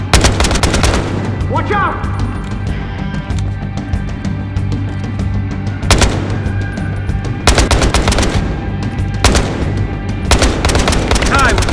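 Rapid automatic gunfire and heavy bursts in the Battlefield Hardline video game, loud and close, recurring in dense volleys over continuous game noise while a voice shouts briefly.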